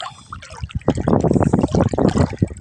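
Water pouring from a nearly full bucket, splashing in uneven bursts, close by and fairly loud, with a gurgling, sloshing texture throughout.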